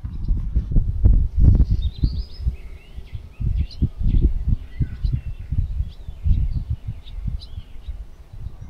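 Flock of migrating shorebirds calling on the open Alberta prairie near salt lakes, thin chirps scattered over steady low rumble of passing train and wind; no talk.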